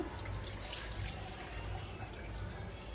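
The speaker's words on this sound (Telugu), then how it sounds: "గిన్నెలో పోసేసుకుంటున్నా" Tamarind water for a raw mango fish curry is poured into a bowl, giving a quiet, continuous trickling splash that stays faint and steady throughout.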